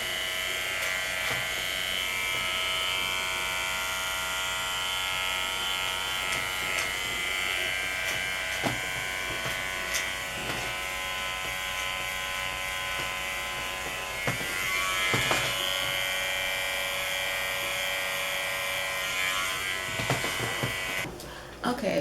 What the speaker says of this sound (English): I'm just going to use my my clippers by Conair